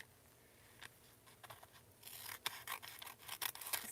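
Scissors cut through a plastic treat bag for a junk journal, giving faint snips and crinkling rustles close up, which turn into a denser run of quick cuts and crackles toward the end, with no talk.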